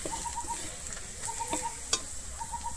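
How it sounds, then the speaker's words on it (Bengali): Spices with asafoetida fry in a pan while being stirred, giving a steady close sizzle with a few scraping stir sounds and a faint birdcall in the background. "আমার সমস্ত মশলাটাকে এখানে কিন্তু খুব ভালোভাবে ভাজা হয়ে গেছে।"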